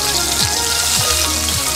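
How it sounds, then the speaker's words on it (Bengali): Eggplant slices frying slowly in oil over low heat, a steady broadband sizzle and crackle that runs without break, close and fairly loud, with no voices. "আমি একটু সময় নিয়ে ভেজে নিচ্ছি। দেখো আস্তে আস্তে করে ভাজছি,"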